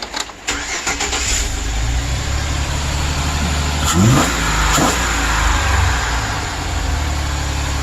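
A 2008 Chevrolet Express van engine catches and runs, settling into a loud, steady rumble with a brief rev partway through, close by with no talk.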